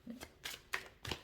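Tarot cards being shuffled by hand in several quick riffling bursts, close and fairly quiet, with a brief snap where one card jumps out of the deck; a voice speaks faintly in between.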